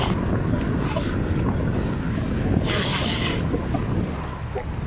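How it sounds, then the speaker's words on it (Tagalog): Strong wind buffets the microphone in a loud, continuous roar while cycling, with a brief gusty hiss midway. "Natrangkuhan na kami dahil sobrang hangin"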